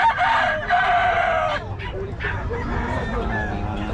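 A rooster crows loudly and close at a busy poultry market, one long crow then shorter clucking calls, under a steady crowd murmur and nearby talking.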